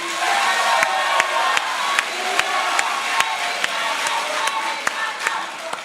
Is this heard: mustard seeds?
no